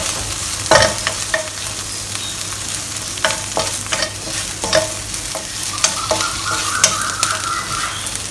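Chili paste sizzles in hot oil while a utensil stirs and scrapes the pan, with sharp clacks and knocks over a steady frying hiss, close and fairly loud, no voices.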